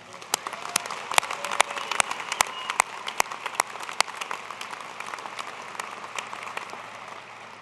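The audience at the 2010 University of Idaho winter commencement applauds its graduates, with a broad roar of clapping punctuated by crisp, loud individual claps from nearby hands that slowly thin toward the end.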